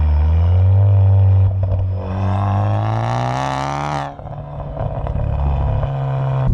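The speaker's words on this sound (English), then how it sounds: "It has a Dreamscience decatted 3-inch exhaust system, which sounds fantastic as you roll on." A Ford Focus MK3 ST with a K&N induction kit and a decatted 3-inch Dreamscience exhaust booms at a loud steady drone, then its pitch climbs sharply under hard acceleration before the engine drops back to a deep rumble.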